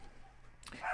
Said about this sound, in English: Excuse if you can hear the dog barking in the garden.